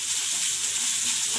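Ginger and garlic paste sautés lightly in a pan for veg crispy noodles, with a brief, even, close sizzling hiss and no talking.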